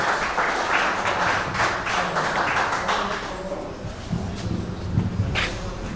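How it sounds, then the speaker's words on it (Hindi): Audience clapping for the secretary, Shri Tenzin Dawa, at an ITI Paonta Sahib event honouring the Dalai Lama, a steady broadband patter that thins after the midpoint, with faint voices and low murmur underneath. "जोरदार तालियां सेक्रेटरी सर के लिए"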